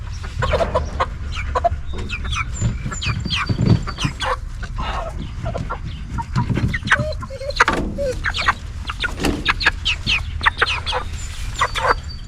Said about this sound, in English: Hello, little chickens.